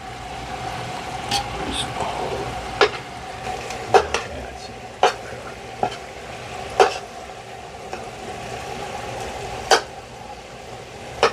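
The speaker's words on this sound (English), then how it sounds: "still mixing our meat together, we're breaking it up" Ground meat for a Bolognese ragù is stirred and broken up in a pan, a low steady sizzle punctuated by sharp periodic clinks and scrapes of the utensil against the pan, with occasional talk.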